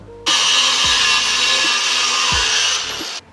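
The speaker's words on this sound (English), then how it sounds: "I'm going to have to cut these down with the angle grinder" A close, loud angle grinder cuts through overlong steel bolt threads on a camper truck hardtop, a steady harsh high-pitched whine that starts abruptly and runs about three seconds before cutting off, with no voices.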